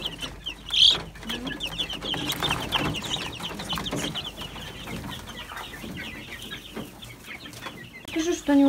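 Chickens on a farm cluck softly and intermittently while feeding on greens and egg, with a few louder calls nearby and people talking at times.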